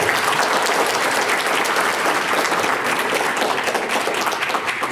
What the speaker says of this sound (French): Vous pouvez la applaudir.